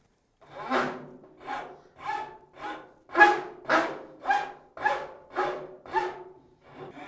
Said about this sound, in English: So I'm using a file for this.